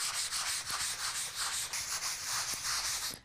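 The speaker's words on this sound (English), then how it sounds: "we are gonna go ahead and lightly sand everything" A wooden door hanger backer is lightly sanded by hand before painting, giving close, rhythmic scratchy rubbing strokes that repeat steadily with no talking.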